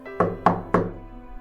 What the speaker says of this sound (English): I approached the door of the man's house and knocked firmly.